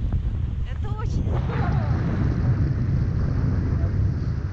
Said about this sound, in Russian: Когда ветер дует тебе в лицо.